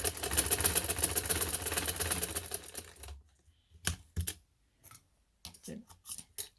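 Sewing machine running in steady stitching bursts over fabric for about three seconds, then stopping and starting in short separate runs with silent gaps, close and moderately loud.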